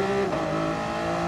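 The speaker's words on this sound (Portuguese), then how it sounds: "este é um barulho de um motor de combustão." Combustion engine of the Audi Vision Gran Turismo race car in GT Sport, 3,400 cc and 746 hp, droning steadily at high revs around the Monza circuit, loud and alone for a moment.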